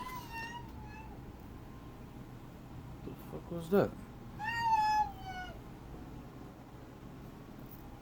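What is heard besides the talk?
cat in heat meowing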